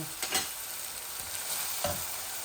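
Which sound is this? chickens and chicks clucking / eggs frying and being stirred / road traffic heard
eggs frying and being stirred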